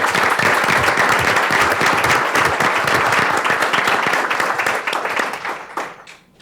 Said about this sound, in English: So give these wonderful students another round of applause.